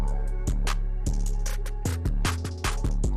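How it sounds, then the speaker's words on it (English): A punchy beat with deep bass hits and four different snare rolls that repeat, each roll stepping down in pitch, loud and dense. "4 different snare rolls that repeat"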